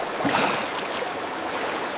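Roaring river water rushes over rocks, a steady, broad, hissing torrent with no breaks and nothing else standing out.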